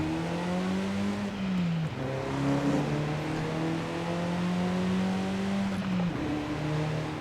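A 2021 Lynk & Co 03+ widebody racing in Forza Horizon 5 accelerates hard, its engine rising in pitch through a couple of quick gear shifts, loud and continuous with no talking.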